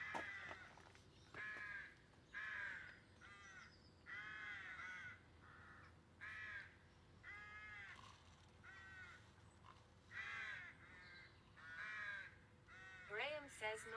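Crows caw in repeated harsh bursts, several calls in a row with short gaps, fairly close and loud over a faint background hum.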